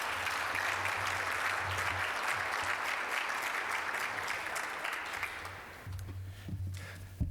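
Hearty sustained applause from a large Rotary club meeting audience thanking a presenter, dense steady clapping filling the room for about six seconds before thinning out toward the end.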